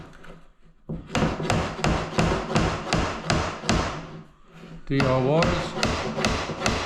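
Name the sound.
nail being driven into door architrave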